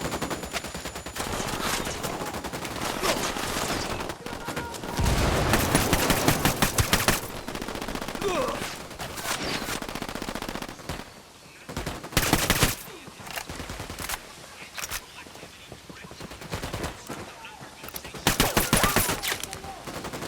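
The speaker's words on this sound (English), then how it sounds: "Opening fire on these fuckers." Sustained automatic gunfire from the video game Ghost Recon rattles loudly and nearly without pause, with heavier bursts and brief lulls between volleys.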